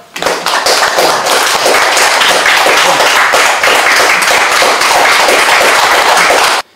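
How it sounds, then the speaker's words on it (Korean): Audience applause at a National Assembly press reporters' club seminar, loud dense clapping from a crowd that starts abruptly, holds steady for several seconds and cuts off sharply. "큰 박수로 환영해 주시기 바랍니다"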